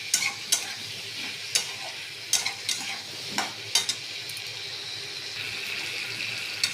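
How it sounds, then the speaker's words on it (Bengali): Shrimp being stir-fried with taro and a little sugar in a pan, giving a steady sizzle broken by sharp spatula scrapes and clacks at irregular intervals, close and moderately loud with no talking. "আর চিংড়ি মাছগুলো সব দিয়ে দেব। দিয়ে ভালো করে আমি কষিয়ে নেব।"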